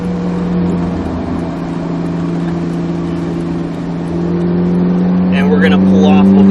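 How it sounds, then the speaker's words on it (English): Ferrari 458 Italia engine on a track drive, a loud steady droning engine tone that rises and climbs toward the end as the car pulls through the gears, with a voice talking briefly over it. "Upshift a few gears for me so we let the RPMs cool the motor down."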